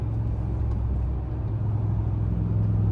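An RV climbing a steep grade on State Road 41 toward Yosemite, its engine giving a steady low rumble and drone from inside the cabin, constant throughout with no speech.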